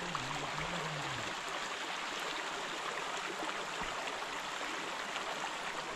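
A mountain stream rushes steadily at night, a continuous, even wash of flowing water close by with no clear breaks.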